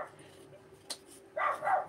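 Dog barking indoors in a home kitchen, a few short yips and a brief whining bark, fairly close and alone.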